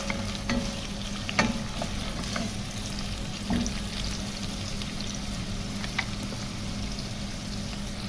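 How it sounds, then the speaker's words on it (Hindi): Onions frying in a pan for a cabbage curry, a steady close sizzle running throughout with occasional stirring scrapes and clicks, no talking. "तो सबसे पहले इसके अंदर प्याज डालें। प्याज को हमने गोल्डन ब्राउन करना है।"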